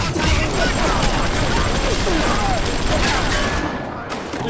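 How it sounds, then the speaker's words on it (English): Dense, continuous gunfire from enemies in the video game Bioshock, loud and close, a rapid crackling barrage that carries on almost unbroken, with a voice mixed in. "Who's shooting me?"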